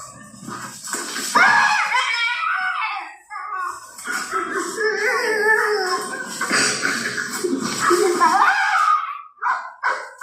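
A dog barks and whines close by amid continuous talking, its yelps overlapping the voices throughout.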